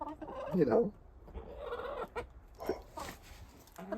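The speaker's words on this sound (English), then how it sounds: "These chickens that are out with me" Backyard chickens let out into their pen cluck in short, uneven bursts close by, with a soft voice speaking between the calls.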